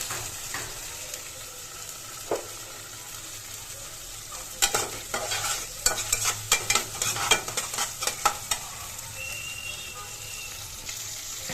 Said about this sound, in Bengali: মশলাটা কিন্তু কইসা গেছে